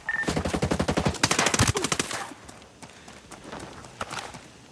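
Rapid bursts of automatic and sniper gunfire in a Brazilian sniper shooter video game, a dense rattling volley for about two seconds, then scattered shots and fainter clatter trailing off.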